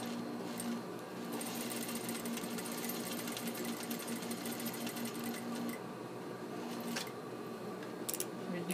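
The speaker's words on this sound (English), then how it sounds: "I'll just sew straight down to my match point" A sewing machine stitches a diamond dart in a steady, continuous rapid hum, running close and unbroken with a few small clicks near the end.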